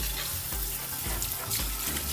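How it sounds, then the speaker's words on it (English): Tap water runs over a man's hair system while it is rinsed, a loud, close, steady gush with uneven splashing as the flow hits the lace. "when you do run water through your system, make sure you spray down into the lace"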